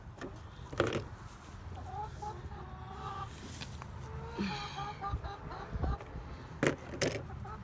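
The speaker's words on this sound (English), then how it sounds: "So we have 7 hens and a rooster" Hens and a rooster cluck and murmur in a coop with scattered louder calls and a faint voice in the background.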